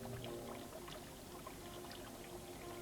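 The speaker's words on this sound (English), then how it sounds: "The sand and pebbles in the guttering are being carried along by the water." Water runs along a gutter, carrying sand and pebbles in a faint, steady trickling flow with soft gurgles and no voices.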